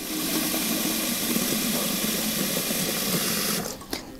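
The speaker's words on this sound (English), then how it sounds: "now I'm just gonna add some lukewarm tap water to my jar up past the spigot" Lukewarm tap water runs steadily into a glass beverage dispenser jar, a continuous close splashing rush that cuts off near the end.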